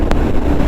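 Strong wind roars past the microphone while riding a BSA Gold Star 650 motorcycle at full throttle, a steady loud rush that fills the whole short stretch with no voices.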